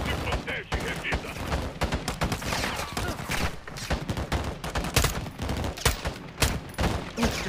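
Rapid, close gunfire crackles in Call of Duty Modern Warfare 2 during a cartel firefight, with bursts of automatic shots and sharp single reports that come in uneven clusters.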